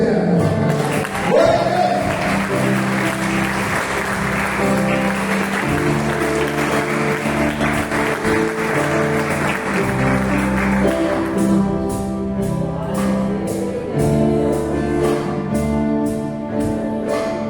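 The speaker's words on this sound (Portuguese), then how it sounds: "Vamos aplaudir o Eterno." A church congregation applauds during a Friday evening service. The clapping is dense and continuous over sustained music-like tones, and it turns into more rhythmic, separated claps near the end.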